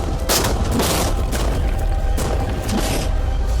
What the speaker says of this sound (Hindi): टैंक्स की रैपिड फायर से मजा आ रहा है।